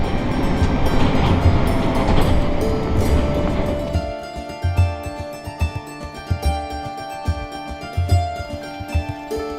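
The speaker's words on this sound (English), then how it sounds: "The train now approaching platform 2" A ScotRail train rumbles loudly, then slows with rhythmic clattering wheels and rail clicks as it rolls in to a platform in Scotland; no voices are heard.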